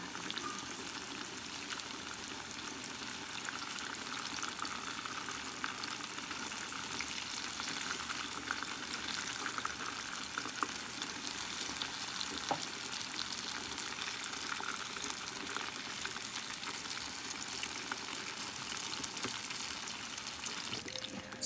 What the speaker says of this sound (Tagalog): I'm going to fry our pork belly as well to make it crispy